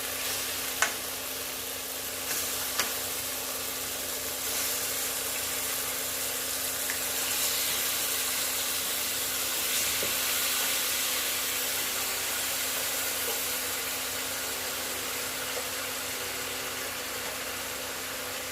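Mutton pieces dropped into fried spice masala set off a loud, steady sizzle that holds for the whole stretch, with a few clicks and stirring scrapes near the start.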